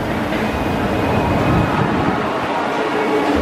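Continuous rumbling roll of a Universal theme park tram in motion, a close, steady broadband drone with no voices and no breaks.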